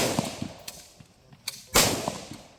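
Troops defending an air force base fire during shooting practice outdoors, with several sharp shots at uneven intervals, one much louder, closer blast standing out near the end, and no talking.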